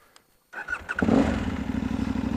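A motorcycle engine cranks after a moment of near silence and catches, settling into a steady, close idle with a low, regular throb.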